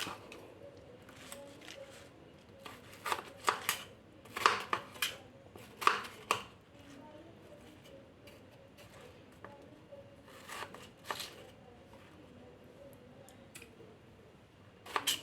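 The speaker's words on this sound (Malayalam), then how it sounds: "ചെറിയ ചെറിയ പീസാക്കി നമുക്ക് ആദ്യം ഒന്ന് കട്ട് ചെയ്തെടുക്കാം" A knife cuts watermelon into small pieces, giving quiet, irregular clicks and chops against a board, some in quick bursts and others spaced apart, with no talking.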